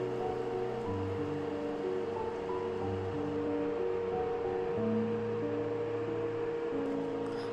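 Carrots simmer in milk for carrot kheer, making a soft, steady bubbling hiss with faint low gurgles that run evenly throughout at a quiet, close level, and no voices.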